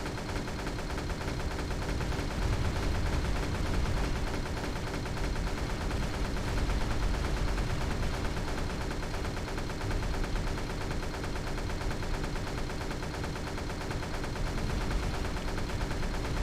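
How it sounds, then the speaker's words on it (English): A mech's machine gun in MechAssault rattles in a continuous, dense stream of rapid shots for the whole stretch, steady and loud with no pauses and no talk over it. "I'll just pull out the machine gun."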